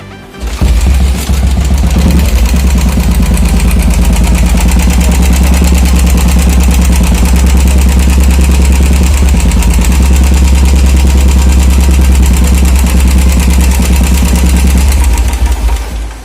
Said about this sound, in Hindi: इंजन का जो टेपिट का साउंड है उसका भी साउंड दे रहा है